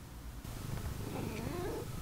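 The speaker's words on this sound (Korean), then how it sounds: "얘가 와서 뒤에다가 골골송을 부르고" A house cat purrs close up, a low steady rumble that keeps going without a break.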